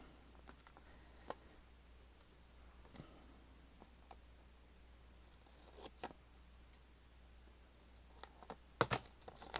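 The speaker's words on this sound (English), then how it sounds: "I'm going to cut off this." Scissors snip paper while a creative daily journal page is put together, giving a few scattered, quiet cuts at a close distance, then a tighter cluster of sharper snips near the end. No one speaks.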